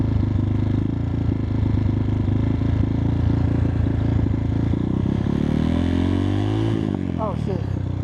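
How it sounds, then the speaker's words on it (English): 2021 X-Pro Titan 250cc dirt bike engine idling with a rough, clattering rumble, then revving up in a rising whine as it pulls away and briefly bogs, loud and close with some clatter. "I'm gonna try to get off the clutch quick and roll on to the throttle, see if I can get it up"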